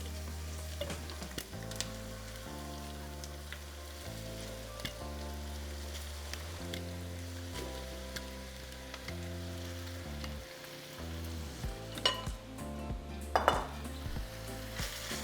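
Ground meat browns in a pan with sautéed green bell pepper and half an onion for carne guisada, a steady sizzle running the whole time beneath louder music with sustained chords.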